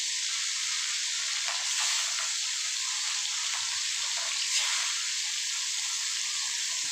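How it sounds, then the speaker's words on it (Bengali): Four pieces of fish rubbed with salt and turmeric frying in hot oil, a steady, even sizzling hiss that holds throughout with slight swells. "মাছগুলোকে ভাজা করে দেবো।"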